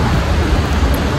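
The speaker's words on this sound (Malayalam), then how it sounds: "പുറത്തൊക്കെ മഴ പെയ്യുന്നുണ്ട് നല്ല" Rain falling outside in the evening, a steady dense hiss of drops that stays even and close throughout the brief moment, with no voices over it.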